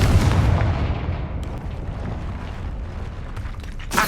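A Confringo blasting spell explosion in the Hogwarts Legacy video game: a loud, heavy boom that rumbles and fades over several seconds, with a sharp burst at the very end.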